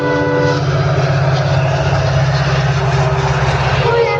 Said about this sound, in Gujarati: ભાવનગર બોટાદ ટ્રેન જાય છે